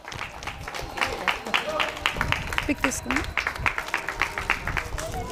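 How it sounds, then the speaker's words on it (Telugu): An audience claps at a Dussehra prize giving held by a wholesale saree shop, applauding a traditional saree contest winner. The patter of many hands runs steadily throughout, mid-distance, under an announcer's voice. "కొంచెం క్లాప్స్ కొట్టండి"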